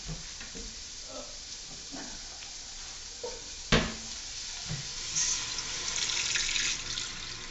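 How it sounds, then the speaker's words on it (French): Water poured into a pot of browned meat and onions for a Quebec pork-hock stew, a splashing, bubbling rush with one sharp clatter midway and a rising sizzle as the liquid hits the hot pan. "Maintenant, on va rajouter de l'eau."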